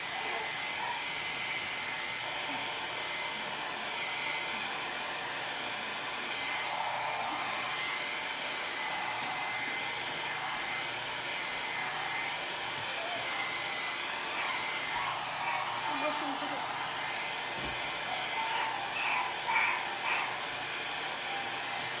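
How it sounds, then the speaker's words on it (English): Hair dryer blowing over a canvas tote bag, a continuous airy whoosh at steady, moderate level that runs for the whole stretch with only slight shifts as the dryer moves. "You want to blow dry this for me?"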